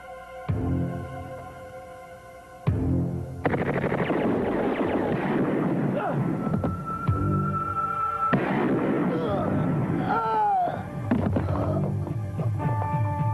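A film explosion from a 1996 Filipino action movie rings out with heavy booming blasts and rumbling aftermath, broken by sudden cuts, with faint shouting between the roars.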